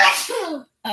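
A person sneezes once, close and loud: a sharp breathy burst trailing into a voiced, falling tone, followed by a short silence before another sound begins.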